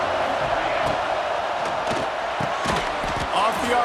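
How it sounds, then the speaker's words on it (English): A stadium crowd roars in the College Football 26 video game, a dense, loud, continuous din punctuated by sharp thuds and bursts of cheering. "This crowd ready to make its presence known."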